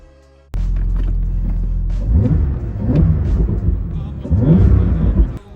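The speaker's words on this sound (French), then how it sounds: "Le moteur a une grande allonge puisque nous sommes sur une biturbo, mais croyez-le ou non, ce n'est pas décevant car il est ultra réactif." Porsche 911 Targa 4 GTS with a twin-turbo engine driving, a steady loud low drone that swells in repeated rising surges as the car accelerates, close and continuous with no talk.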